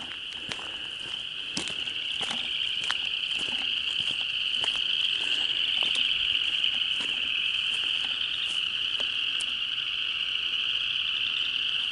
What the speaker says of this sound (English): Man, they're loud. That's a lot of frogs.